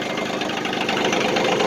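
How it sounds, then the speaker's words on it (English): A John Deere tractor engine idling steadily after being started, a close, continuous low rumble with a faint knocking pulse and no voices. "fire up the tractor"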